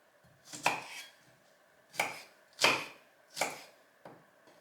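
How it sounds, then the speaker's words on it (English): Peeled garlic chopped into small pieces with a knife on a board for a Bolognese, five sharp knife strikes with gaps between, close and clear with no talking. "Let's once again cut it into small pieces."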